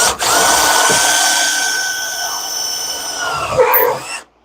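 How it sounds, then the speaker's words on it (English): A cordless drill whines steadily for about four seconds as it bores a hole, loud and close, with a brief dip in pitch near the end before it stops. "first one I'm going to drill is this one here"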